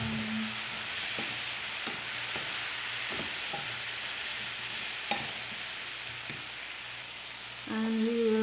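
Bottle gourd (opo) sizzling and frying in a pan with tomatoes and sardines, a steady hissing crackle with occasional stirring clinks and a louder burst of sizzle at the end.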